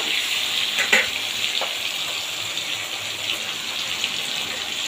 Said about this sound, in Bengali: এবার ফোড়নে দিয়ে দিলাম কালো জিরে, দিয়ে দেবো দুটো কাঁচা লঙ্কা, বেশ কিছুটা টমেটো দিয়ে একটু নাড়াচাড়া করে নেব।